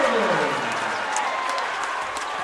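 A high school basketball crowd in a gym roars and applauds after a dunk in a boys game, a loud dense wash of cheering and clapping that fades slightly over a couple of seconds.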